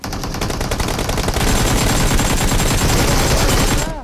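Dense automatic gunfire from the PUBG Mobile game fires as one unbroken, loud rattling burst lasting about four seconds, with sharp repeated shots blending into a continuous roar before cutting off.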